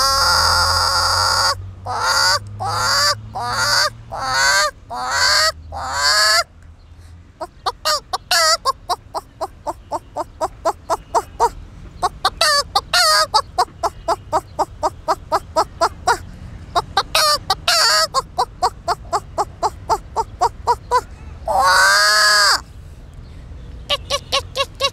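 A human voice mimics a hen's calls: a handful of loud clucks, then long trains of quick, rhythmic clucking and a sharp squawk near the end, close and clear, with no background noise.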